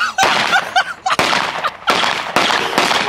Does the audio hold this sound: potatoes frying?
no